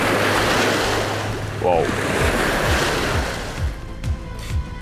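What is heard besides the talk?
large waves breaking at the lake shore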